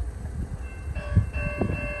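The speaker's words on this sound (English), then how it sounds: "We've got a Union Pacific freight train" Union Pacific freight train rumbling past on the Palmdale cutoff at Cajon Pass, a steady low rolling noise with sustained horn-like tones entering partway through, fairly loud and continuous with no talk.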